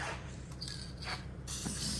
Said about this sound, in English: You just spray them down real good and heavy with some copper Permatex spray there